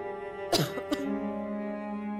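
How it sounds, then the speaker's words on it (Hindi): Two quick coughs break through over a steady humming background, then the low hum continues alone. "इतनी खांसी हो रही है इसे"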